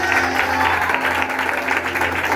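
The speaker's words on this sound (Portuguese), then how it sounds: "Aplauda meus atores." A church congregation at an anniversary service claps in a dense, sustained burst of applause that fills the room at a steady, loud level.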